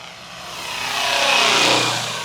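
A whooshing, buzzing rotor swells in volume as a FlyWing GPS RC helicopter passes close by, its blades cutting the air, fairly loud and continuous.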